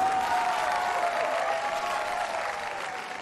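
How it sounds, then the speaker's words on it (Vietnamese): Studio audience at a fighting-match show breaks into sustained applause, a continuous wash of clapping with a faint tone running beneath, fading gently toward the end. "Cho một tràng pháo tay đi."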